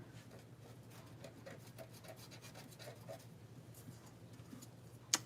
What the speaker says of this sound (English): I'm going to scrape it off the frame